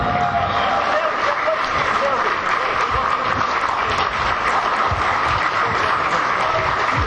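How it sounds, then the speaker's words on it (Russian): A live audience applauds at a public meeting with fighter Valentina Shevchenko after a bouquet is presented, the dense clapping steady and sustained throughout with a crowd murmur underneath. "Ну, за букет можно еще одну порцию аплодисментов."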